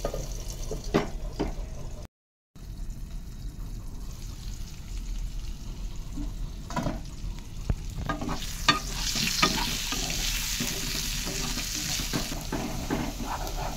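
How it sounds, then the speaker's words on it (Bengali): Potatoes fry in a pan of oil with a steady sizzle and occasional stirring scrapes, the hiss brightening toward the end after a brief silent gap. "আলুগুলো মোটামুটি ভাজা হয়ে গেছে"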